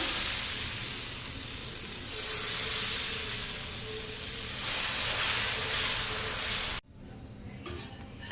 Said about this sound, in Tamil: அடுத்து ஒரு தோசை ஊற்றிக்கலாங்க